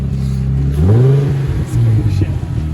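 Infiniti G35 engine idling while warming up, with blown catalytic converters and a check engine light on; a low steady rumble that swells briefly in pitch, with people talking over it.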